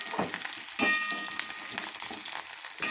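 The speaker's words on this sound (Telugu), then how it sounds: "బాగా ఫ్రై అయ్యేదాకా వేసుకున్నాం." A sprig of curry leaves tempers in hot oil for a mango curry, giving a quiet, steady sizzle with scattered sharp crackles and pops.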